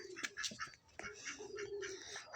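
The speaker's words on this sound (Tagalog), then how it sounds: "Naipit kasi yung ibon." A bird coos and calls repeatedly at close range, its short bursts mixed with rustling and faint voices nearby.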